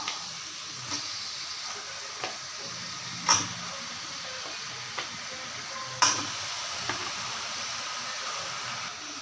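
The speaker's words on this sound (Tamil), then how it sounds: "இப்போ இஞ்சியை நல்லா வதக்கியாச்சு இதில் இந்த சிக்கனை ஒரு பெரட்டு பரட்டி விட்டுடலாம்" Country chicken tossed with ginger in a hot pan for a curry, a constant soft sizzle broken by a regular series of spoon knocks and scrapes, two of them louder, with no speech.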